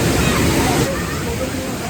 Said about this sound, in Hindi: देखो ये कैंपटी फॉल।